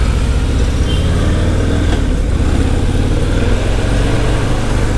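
Harley-Davidson Fat Boy 114 motorcycle riding through traffic while lane splitting, its engine a steady, loud, close drone that runs unbroken from start to finish with no voices.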